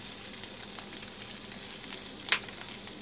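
Finely chopped, crushed ginger fries in oil for tawa pulao, a soft, steady sizzle with faint crackle and one brief sharper pop, quiet and continuous.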